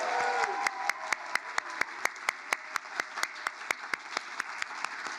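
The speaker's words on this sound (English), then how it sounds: "Let's give another round of applause for all of our awardees tonight." Sustained audience applause at the Governor's Arts & Heritage Awards ceremony for the evening's awardees, a dense steady wash of many hands with sharp rhythmic claps standing out near, no talk.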